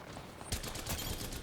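A machine gun fires a rapid, continuous burst of shots in Apex Legends, starting abruptly after a short quiet lead-in and continuing densely to the end at moderate, slightly distant loudness.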